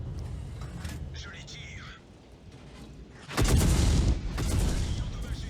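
Artillery fire in a multiplayer war skirmish video game: a loud, broad booming barrage bursts in mid-way and rumbles on to the end, with faint quieter combat noise before it.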